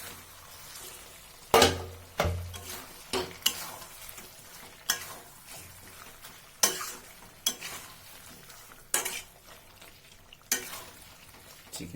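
A spoon scrapes and stirs through kadai chicken with garam masala and chopped coriander leaves in a pan, a series of sharp, irregular strokes over a soft ongoing sizzle, close by, with no voices.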